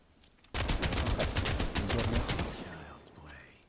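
Enemies trade rapid automatic gunfire in Final Fantasy VII The First Soldier, a loud dense burst of shots that starts abruptly and rattles on for about two seconds before tapering into fainter scattered pops.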